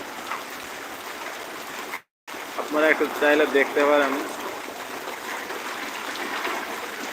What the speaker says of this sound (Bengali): হিউজ পরিমাণ বৃষ্টি হইতেছে